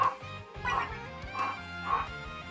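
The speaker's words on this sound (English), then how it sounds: "my dog is barking" A pet dog barks at home, sounding as a few separate, moderately loud woofs spaced about half a second apart, with no voices over them.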